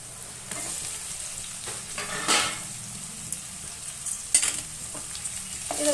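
Chopped capsicum frying with ginger garlic paste in a pan for palak paneer, a steady close sizzle broken by several sharp stirring scrapes of a spatula, with no one speaking.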